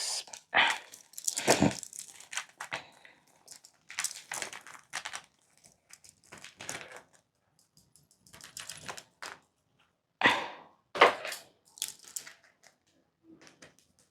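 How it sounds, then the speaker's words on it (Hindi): Tarot cards are shuffled by hand in quick bursts of riffling, slapping and flicking, separated by short pauses, close and fairly quiet. "चलो मैं एक बार और शफल करती हूँ"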